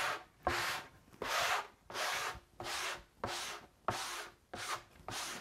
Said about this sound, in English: take my block and I sand it down.